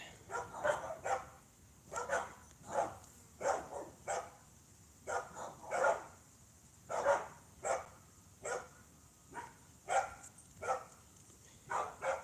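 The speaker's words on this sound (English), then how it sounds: "Those fucking neighbor dogs." Neighbors' dogs bark repeatedly in an uneven series of sharp barks spread across the whole stretch, heard from a moderate distance with no talking.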